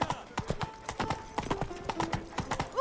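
Roach, a horse in The Witcher 3, gallops with quick, distinct clip-clopping hoofbeats in an uneven rhythm, close and clear over faint background music.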